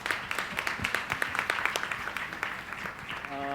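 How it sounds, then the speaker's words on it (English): Audience applause at the Bangalore Literature Festival, a moderate round of clapping with distinct individual claps spread across the room, fading slightly toward the end. "A huge round of applause, please."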